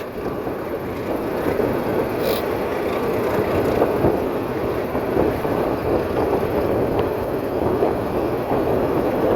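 Narayanganj commuter train running, heard from inside the third coach behind the engine: a steady, loud broadband rumble with faint rail clatter throughout, and no talk.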